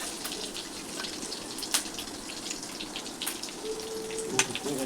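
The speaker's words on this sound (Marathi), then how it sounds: "राई जिरा फटफटला" Mustard seeds and cumin crackle in hot oil with a cinnamon stick, giving a soft, continuous sizzle dotted with small pops close by, fairly quiet overall.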